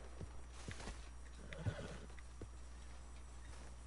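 A horse in Red Dead Redemption 2 whinnies faintly beside a few soft hoof clops over a low steady hum, with no talking.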